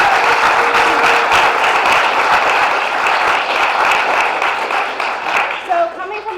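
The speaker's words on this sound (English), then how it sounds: "So let's give him a round of applause." Steady applause from an audience at a business presentation, dense overlapping clapping that stays loud throughout, with a few voices mixed in before it thins slightly at the end.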